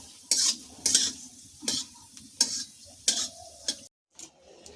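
Jackfruit seeds are lightly fried in a wok, with a spatula scraping through them in about six sharp, evenly spaced strokes over a faint, steady sizzle.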